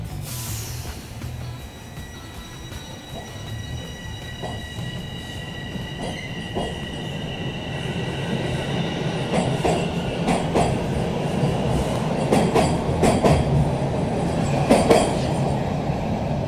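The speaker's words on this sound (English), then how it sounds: "the Toronto Rocket is a highly improved subway train for riders to ride on." A Toronto Rocket subway train on the TTC runs along the rails, a steady rumbling roll with high wheel squeals and repeated clicks over track joints, building gradually louder, with no talking.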